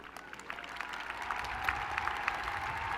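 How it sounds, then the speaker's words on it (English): At a fall university commencement ceremony, the crowd claps for the doctoral degree candidates as they stand, a fairly faint, continuous spread of applause from a large hall that swells slightly over three seconds. "let's give them a round of applause"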